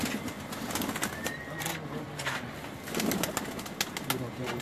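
High flying pigeons coo and call near a loft in Karachi, soft low coos and scattered chirps mixed with rustling and occasional wing sounds, with people talking nearby.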